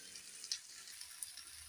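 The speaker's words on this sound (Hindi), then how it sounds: "तो ये हमने यहाँ पे भिंडी के लिए तड़का लगा दिया" Okra tempering sizzles steadily in a pan, a soft, continuous frying hiss with a couple of brief crackles, fairly faint and close, with no talking.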